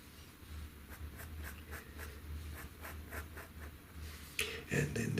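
Pen scratching across paper while drawing a cartoon elephant's leg, a close run of short rhythmic strokes over steady room hiss, with a couple of louder handling noises near the end.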